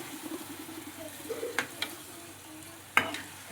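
Oysters being stirred into a hot pan of frying onion and tomato, a close, steady sizzle broken by a few sharp scraping and clattering stirs, with no talking.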